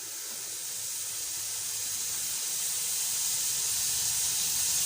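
Vegetables fry lightly in a hot pan for egg fried rice, giving a steady, close hiss of sizzling steam that swells slightly louder over the few seconds, with no talking.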